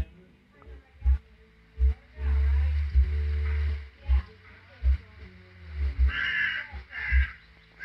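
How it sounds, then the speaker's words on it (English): Dying crow in The Last Door video game giving hoarse caws under game music, with rhythmic low thumps repeating throughout and a person talking over it. "A dying crow, not much left in it."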